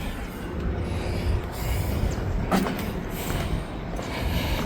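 A train rolls past in Ohio rail country between Fostoria and Deshler, a loud, steady broadband rumble of wheels and cars with faint metallic creaks, close and continuous, no voices.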